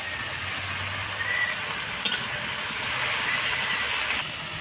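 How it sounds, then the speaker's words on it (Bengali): Chopped tomato hits a hot pan with a steady, close hiss and sizzle that holds for several seconds, with one brief sharper crackle partway through and no talking. "এবার আমি প্রথমে দেবো টমেটো কুচি,"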